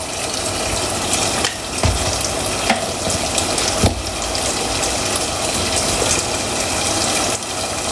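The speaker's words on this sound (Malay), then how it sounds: "Tambah sikit air." Water pours steadily into a pan while cooking sambal squid and bok choy in oyster sauce, a continuous close splashing hiss over sizzling, with a few brief clatters of utensils and no talk.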